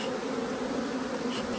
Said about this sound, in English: Please smoke all the bees off.